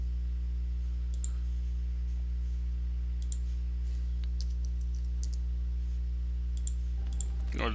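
Quick, scattered keyboard clicks from typing on a computer keyboard sound in short bursts over a steady low electrical hum, faint and close.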